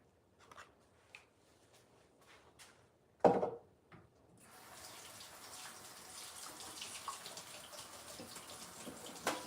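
A kitchen tap runs water to rinse out a juicer, starting after a few faint clatters and knocks and then flowing steadily and softly to the end.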